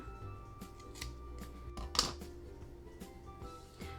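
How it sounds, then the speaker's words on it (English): Scissors trim yarn on handmade no-sew Minnie ears, giving a few soft, close snips over a quiet, humming room. "So this one's quite long, and there's not a whole lot of white to cover, so we're going to just trim it."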